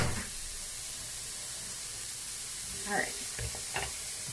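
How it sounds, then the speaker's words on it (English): Vegetables saute in a pan for a wild rice and mushroom soup, giving a steady, close sizzle throughout with a few stirring scrapes near the end and a brief spoken remark. "So you want to add the salt as you saute them."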